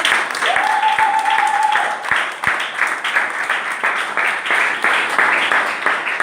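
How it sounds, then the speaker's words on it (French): A church congregation at a French praise and worship service claps and cheers for Jesus, sustained loud applause filling the room, with a whistle or cry briefly riding above it near the start. "Est-ce qu'on peut acclamer Jésus?"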